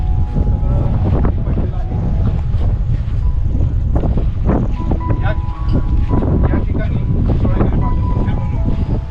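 Strong wind buffets the microphone on a mountain trek near a Mahadev temple, a loud continuous low roar with gusts throughout, while a person talks over it.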